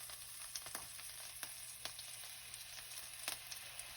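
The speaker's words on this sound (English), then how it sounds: "now we're gonna put it on its side and just get those sides browned as well" A 3 1/4 pound beef pot roast browning on its side in a hot pan, a steady close sizzle with a few sharp crackles and pops scattered throughout.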